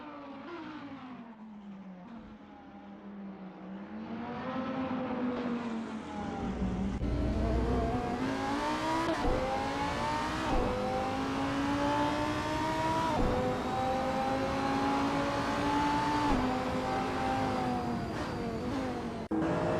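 A Lamborghini Huracan GT3 race car in Assetto Corsa roars through repeated upshifts, its engine note climbing and dropping in stepped pitch sweeps with some tire noise, loud and sustained.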